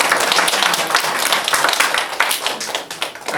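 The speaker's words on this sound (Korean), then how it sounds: "옆에 있는 성도들에게도 한번 박수 한번 쳐주시고" A church congregation claps together in a loud, dense burst of hand claps that continues steadily throughout, with no talking over it.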